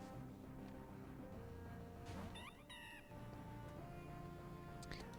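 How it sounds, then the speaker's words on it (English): A cat meows a couple of times in the Pokemon Elite Redux game, the short pitched calls standing out over steady game music. "Hello, cat."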